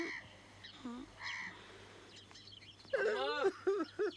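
A rooster crows a few times at fair loudness in a rural setting, with quieter bird calls before a louder wavering crow near the end.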